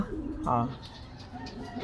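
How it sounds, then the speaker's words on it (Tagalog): Soft pigeon coos close by, a low rolling call rising midway, with quiet voices and background noise around it. "Ito yung ibon natin."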